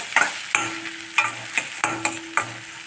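Onion and crushed garlic fry in a pan, a steady soft sizzle broken by repeated sharp stirring scrapes and clinks about every half second, close and fairly quiet.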